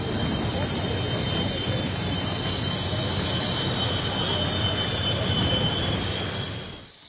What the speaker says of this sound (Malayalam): ചണ്ഡീഗഡ് എയർബേസിൽ നടത്തിയ വിരമിക്കൽ ഡ്രസ് റിഹേഴ്സലിൽ അവസാനമായി MiG-21 വിമാനങ്ങൾ ആകാശത്തെ പ്രകടനം കാഴ്ചവെച്ചു.